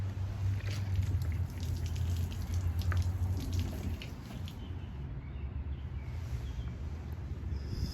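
Water splashes and trickles as it washes soil off the roots of a cedar bonsai during repotting, a soft close dribbling with faint drips, no talking.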